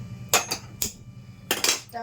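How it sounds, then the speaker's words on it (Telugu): A small pan set onto a kitchen stove, a few sharp metallic clanks and scrapes of metal on metal, close and clear, with a quiet voice faintly in the background. "స్టవ్ వెలిగించేసి ఒక చిన్న పాన్ పెట్టుకున్నాను."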